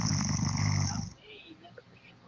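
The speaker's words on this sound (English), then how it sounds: "Chuck's snoring." A person snoring, a loud rasping snore for about a second before trailing into quiet background, heard close.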